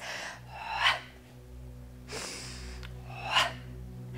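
Slow, deep breaths during a guided breathing exercise, three audible airy inhalations spaced about a second or more apart, close and soft against a quiet low hum.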